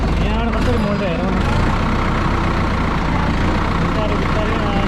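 A tractor engine runs steadily as it is driven on a first attempt at the wheel, with a low, continuous rumble that holds constant throughout while voices talk over it.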